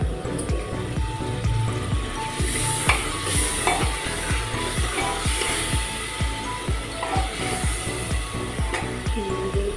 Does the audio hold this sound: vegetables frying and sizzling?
yes